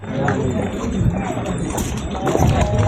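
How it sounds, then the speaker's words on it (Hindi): Hooves of sturdy horses clip-clop at a busy lakeside tourist spot in Mahabaleshwar, steady and close beneath ongoing chatter and crowd noise. "देखो कितना सही घोड़ा है एकदम"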